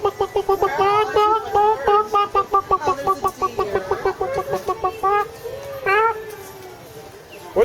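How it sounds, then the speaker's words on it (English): A rooster and chickens cluck at a zoo enclosure in rapid repeated bursts, loud and close at first, then sparser calls and a few longer squawks, with faint voices in the background. "Where are the chickens? I only see a rooster."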